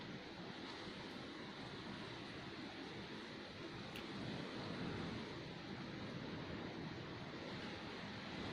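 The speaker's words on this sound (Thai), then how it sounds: "เสียงลมแบบเป็นคลื่นเลยนะคะ" Strong gusty wind roaring steadily like surf, a broad, continuous rush with slight swells, heard from a distance and fairly faint, with no voices.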